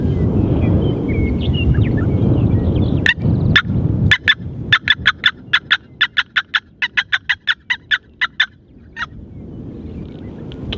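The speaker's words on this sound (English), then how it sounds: "Yeah, the back one's gobbling." Wild turkey calling in open South Dakota country during a hunt: a long run of sharp, rapid clucks and yelps rises over steady wind noise. The calls are loud and fairly close, and a few thumps come before them.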